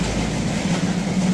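A train rumbles past close by, giving a continuous heavy roar with no gaps.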